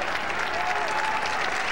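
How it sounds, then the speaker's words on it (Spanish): Stadium crowd applauding as a substitution is made during a Chilean top-flight football match, a steady, dense wash of clapping that fills the whole moment with no voice over it. "¿Para quién son los aplausos, Romay?"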